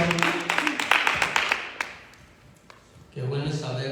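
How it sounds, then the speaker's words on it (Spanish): A church congregation claps in a short burst of applause that thins out and fades within two seconds, followed by someone speaking. "Un aplauso para nuestro Dios"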